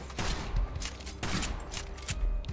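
Gunfire in the video game Kill the Crows comes as a few rapid, rough bursts of shots over a noisy game soundtrack, fairly loud with no speech.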